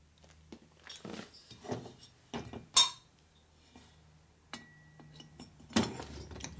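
Steel valves dropped one at a time into the guides of a new Harley-Davidson Screamin' Eagle 110ci touring cylinder head, giving a few sharp metallic clinks and taps with quiet pauses between.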